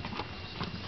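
Horse hooves clip-clopping on hard ground at a farm where animals are being fed, a short burst of close, steady steps.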